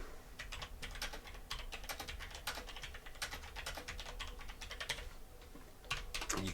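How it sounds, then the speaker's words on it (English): Steady typing on a computer keyboard, quick clustered key clicks running continuously and faintly with no speech. "or you can just type."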